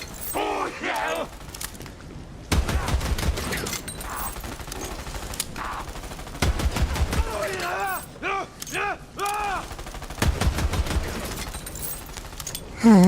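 Heavy video-game gunfire rips out in dense, rapid automatic bursts, loud and close. The bursts come in several separate volleys, and chirpy game effects and voices sound between them.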